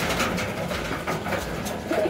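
A young homing pigeon bred in a loft, its wings not yet fully grown, gives soft, low cooing under a steady background hiss, with a couple of brief louder coos near the end.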